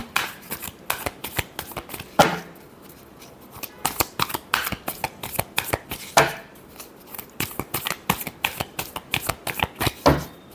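Tarot cards being shuffled by hand, a rapid run of crisp riffling flicks in quick bursts with short pauses between them, close and fairly clear with no talking.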